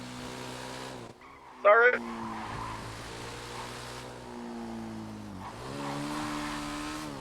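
A car in a video game drives down onto a freeway, its engine droning with a brief tire squeal early on and shifting pitch as it accelerates; a voice briefly speaks.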